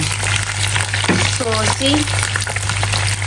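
Boiled eggs frying in hot oil over a low flame for Nepali-style egg curry, a steady close sizzle with occasional pops as someone talks over it.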